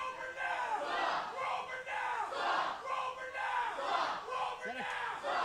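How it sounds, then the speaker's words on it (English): A packed wrestling crowd roars and chants in rhythmic, loud surges, the massed voices rising and falling in steady waves throughout. "Crowd letting World Renowned know how they feel"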